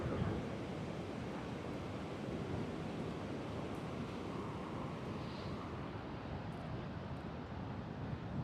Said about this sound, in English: Good surf today. Look at those waves.